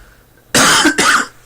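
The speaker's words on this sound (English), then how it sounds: "I'm sorry I'm coughing" A person coughs twice in quick succession, loud and close, after a quiet moment.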